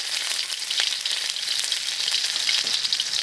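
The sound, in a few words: stir-frying sauce with coriander in oil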